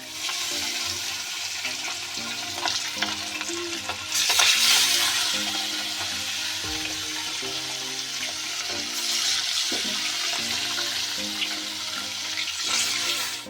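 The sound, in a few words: rohu fish pieces frying in hot oil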